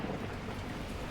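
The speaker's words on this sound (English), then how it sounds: "the heavens opened up, unleashing torrential rain." Torrential rain pours in the video game Beacon Pines, a dense, continuous hiss of heavy downpour heard on its own at a low, steady level.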